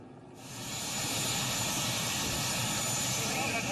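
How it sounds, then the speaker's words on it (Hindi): An Indian Air Force helicopter flies over a flood-hit area of Kullu, Himachal Pradesh, its engine and rotor roar rising quickly and then holding steady and loud throughout, with no voices. "भारतीय वायुसेना के हेलीकॉप्टर ने उड़ान भरी और बाढ़ की वजह से इलाके में फंसे लोगों को रेस्क्यू किया।"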